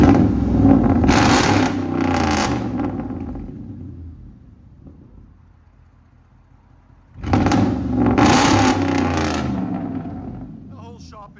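A 2006 RAM 1500 with a 5.7L HEMI V8 and true dual straight pipes gives two loud, close revving bursts separated by a few seconds of lower idle rumble.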